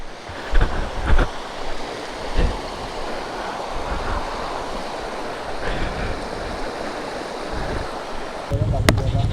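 Rushing river water at a high, deep crossing on a motorcycle adventure ride, a steady broadband roar with wind buffeting the microphone, a few low thumps and a louder burst near the end.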